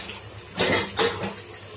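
Water splashes as leftover masala is rinsed out of a mixer jar and poured into a pan of oyster mushroom gravy, two brief sloshing pours close by.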